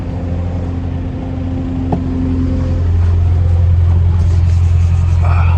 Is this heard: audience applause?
no